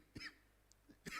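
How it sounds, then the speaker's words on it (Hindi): Two short, sharp coughs a second apart, fairly faint, with a small throaty sound between them and no speech. "खांसी क्यों आ रही है?"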